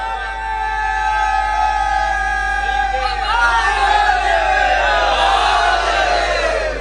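A large crowd at a Jashn-e-Qaim celebration at Rauza-e-Kazmain in Lucknow roars out a religious slogan together, a loud, sustained collective shout that swells and carries on for several seconds.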